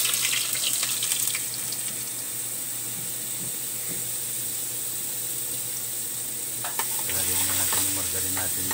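Margarine sizzles steadily in a pan while sauce for tilapia escabeche is sautéed, a constant close frying hiss with occasional stirring and utensil clinks.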